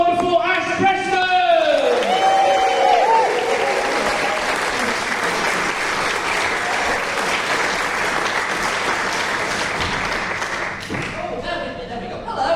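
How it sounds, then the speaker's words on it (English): Live comedy club audience bursting into loud sustained applause, clapping and whoops as a comedian is welcomed to the stage, with voices and cheers over the clapping before it fades near the end. "Holler, clap, cheer, welcome to the stage for the second act of the evening"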